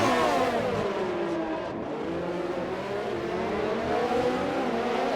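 Formula 1 cars in F1 2020 racing uphill at Monaco, high engine whine rising and falling as cars accelerate and pass one another, steady and fairly loud.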